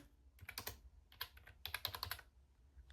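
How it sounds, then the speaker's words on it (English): Close, clear typing on a computer keyboard: quick bursts of keystrokes in two flurries with a short pause between, no voices. "I'm just going to type in t-shirt ruler"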